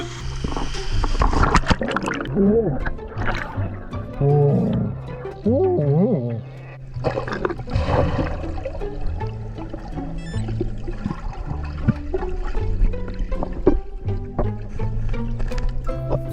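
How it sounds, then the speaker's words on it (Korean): A rushing waterfall in a mountain valley gorge gives a continuous watery roar under people talking and exclaiming nearby for most of the stretch. "여기 또 폭포가 있네"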